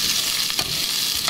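Chopped onion sizzles and browns in a hot pan of oil, a steady bright frying hiss with a few soft stirring scrapes, close and fairly loud, no voices.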